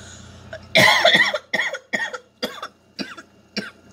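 A run of about seven coughs, one hard burst followed by smaller, evenly spaced hacks, close and loud.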